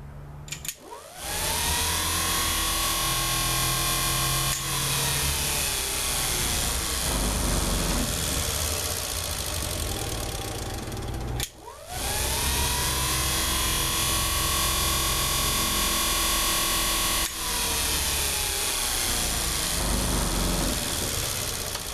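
A big DC permanent magnet motor bench-runs on 24 volts with a strong steady whine, briefly dipping and spinning back up twice, with no talk.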